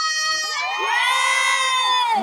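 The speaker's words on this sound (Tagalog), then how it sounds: "Mas malakas na hiyawan at sigawan naman." At a Filipino barrio fiesta show in Dubai, a crowd cheers and shouts in one sustained, loud swell of overlapping voices, with children's shrill yells standing out.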